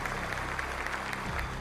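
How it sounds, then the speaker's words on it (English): Roaring applause from a crowd in Israel greeting Trump, a dense steady wash of clapping heard at a distance, with a low rumble and faint crowd noise mixed underneath. "He received roaring applause in Israel."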